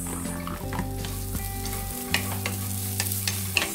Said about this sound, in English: So stir fry, stir fry until it absorbs the oil and blended with the garlic.